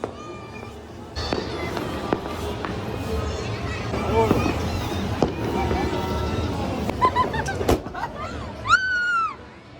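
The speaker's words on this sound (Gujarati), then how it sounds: "હવે અમારા ફટાકડા ફૂટવાના ચાલુ કરશે બધા" Firecrackers pop and burst at intervals against a noisy outdoor background during Uttarayan kite festival in Surat, with people talking throughout and a high whistling sweep near the end.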